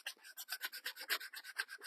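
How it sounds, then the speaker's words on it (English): Hand sanding of a small wooden scroll-saw piece: a steady run of about fourteen quick, rhythmic back-and-forth rasping strokes, close and clear with no talk. "So I grabbed one of the bigger pieces here to sand"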